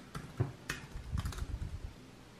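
Fingers tap out a short phrase on a computer keyboard, a few separate clicks followed by a quick cluster of keystrokes, close and fairly quiet with no talking.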